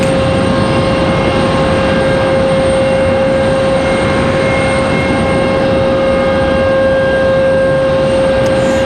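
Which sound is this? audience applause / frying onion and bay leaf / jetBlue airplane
jetBlue airplane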